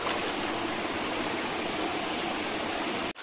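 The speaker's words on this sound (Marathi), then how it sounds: "हा पहा ओढा" A stream in the Konkan countryside rushes steadily, a dense, even wash of flowing water that stays loud and close throughout before cutting out abruptly at the very end.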